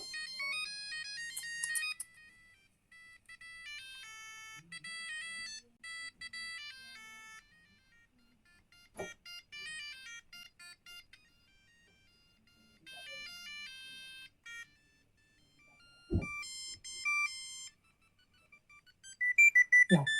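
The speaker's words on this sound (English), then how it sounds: "this ringtone is very famous and I have heard that ringtone a lot actually." A Siemens A50 mobile phone plays a series of bright, beeping polyphonic ringtone melodies, each a short tune followed by a pause, with a few louder knocks and handling bumps between them.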